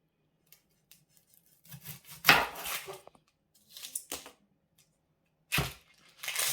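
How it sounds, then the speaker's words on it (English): Onion chopped with a sharp knife for slow-cooker marmalade chicken: a few separate crunching cuts and board knocks in short bursts with quiet gaps between them, close and moderately loud, with no talking. "Okay, then cut the onion."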